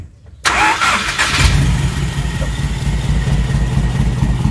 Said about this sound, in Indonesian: Coba mulai Ji, starter Ji